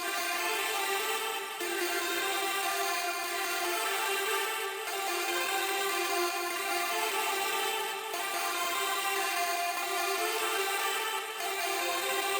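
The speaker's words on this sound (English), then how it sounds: "A cool ambient virtual lead pattern" Ambient virtual synth lead pattern built from a Serum preset bank for a trap beat, steady sustained tones repeating in a loop over bars, spacey and continuous with no voice.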